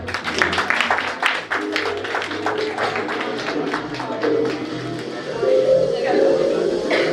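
Scattered handclaps from a crowd gathered for a property developer's lucky draw, a loose burst of clapping that thins out, followed by room murmur and voices.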